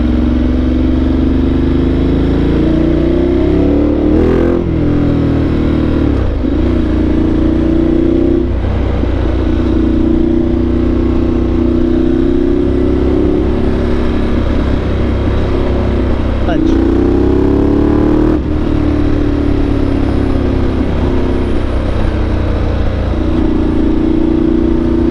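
A Ducati Multistrada 1200 Enduro adventure motorcycle engine drones loudly and steadily while riding, rising and falling as the rider rolls the throttle on and off, with wind rush and the rider talking over it.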